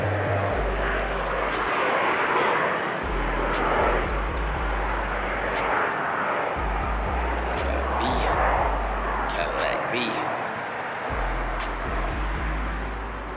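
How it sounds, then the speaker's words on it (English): A loud roar of a jet aircraft overhead fills the whole stretch, steady and broad, with a person talking through it and low rumbling hits underneath. "where the hell is that jet? It is super loud."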